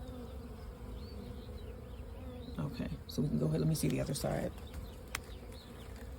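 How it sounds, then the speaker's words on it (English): Honey bees buzz around an open hive frame holding pollen and nectar, a steady close swarm drone with a louder burst partway through, while people talk quietly nearby. "we got a lot of bees"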